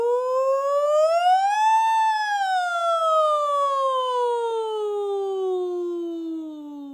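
A single sung 'ooh' distress holler mimics a siren. The voice glides from low to high and then slowly back down in one loud, clear, unbroken tone, with nothing else audible.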